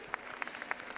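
Concert audience applause for a band member at a live show, a short burst of light scattered clapping, fairly faint and distant.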